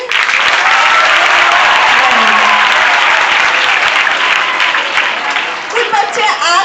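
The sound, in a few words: audience applause for a student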